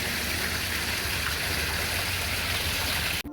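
Water runs in a pet-store fish tank as a steady, close hiss and splash. It continues without pause and cuts off at the very end.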